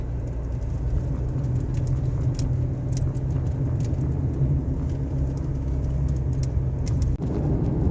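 Car driving along State Line Road, a rural road on the Indiana border, with steady low road and engine rumble throughout at an even level and no talking.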